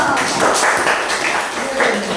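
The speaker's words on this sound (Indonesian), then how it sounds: "Tepuk tangan dulu dong." A class of students claps together in a classroom, a dense, steady patter of many hands that stays fairly loud and continuous for a couple of seconds.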